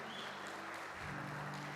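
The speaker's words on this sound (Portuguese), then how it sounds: "e aplauda Jesus" Church congregation applauding during an evening worship service, a dense steady wash of clapping filling the room with a low organ or keyboard chord sustained underneath.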